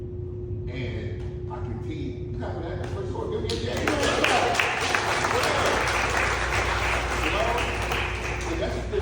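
Audience applause bursts in partway through a motivational talk at a beauty school, dense clapping swelling and holding steady after a few quieter seconds, with a steady tone and speech beneath.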